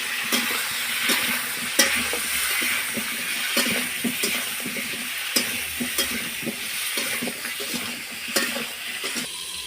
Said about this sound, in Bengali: এবার একটু হলুদ দিয়ে দিলাম, দিয়ে ভালো করে আলুগুলো ভেজে নেবো।